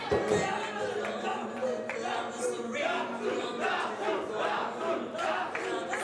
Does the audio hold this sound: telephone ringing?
no